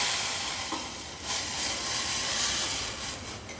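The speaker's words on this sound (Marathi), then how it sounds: "हिरवी मिरची आणि कढीपत्ता फोडणीला घातल्यानंतर आपण हे जे शिजवलेलं मुगाची डाळ आहे ती ॲड करणार आहोत." Steady loud sizzling hiss as cooked moong dal goes into hot tempering of green chilies and curry leaves for Agri Koli style varan, continuous and close with no talk.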